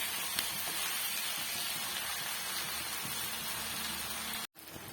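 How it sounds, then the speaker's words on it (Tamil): Turkey berries and onions sautéing in a pan for a Tamil-style sundakkai kuzhambu, giving a steady, close sizzling hiss that runs without a break and cuts off briefly near the end. "ஒரு 5 நிமிஷம் நம்ம வதக்கி விட்டுக்கலாம்"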